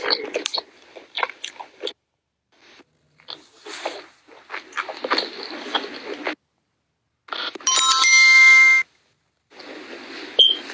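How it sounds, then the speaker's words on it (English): Someone eats steak, broccoli and watermelon with loud, close chewing and crunching in bursts separated by short silences, plus a brief electronic beep near the end. "I chew loud. Even if my mouth closed, you gonna hear me."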